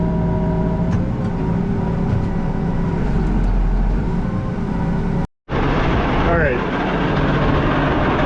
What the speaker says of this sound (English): my fan is running, and my auger runs